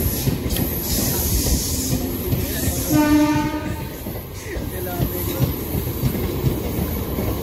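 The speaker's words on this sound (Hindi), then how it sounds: "देख लो फाइनली हमारी ट्रेन आ चुकी है" A train pulling into a station: a loud, steady rumble of wheels and carriages fills the scene, and a sustained horn blast sounds near the middle.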